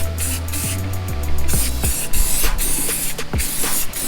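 Aerosol spray paint hissing in repeated bursts onto trailer parts being repainted, close and steady, with light handling clatter between sprays and no talking.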